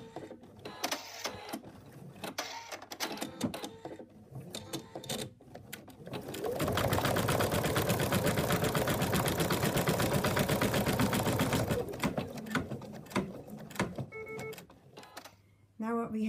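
Sewing machine stitching the ear onto a teddy bear, a steady rapid mechanical whir for about five seconds, close and prominent, with quiet handling noises and clicks before and after.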